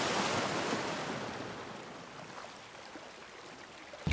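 Ocean waves and a rising tide washing onto an uninhabited island shore, a broad hiss of surf that is loudest at the start and then eases to a steady wash, with some wind buffeting.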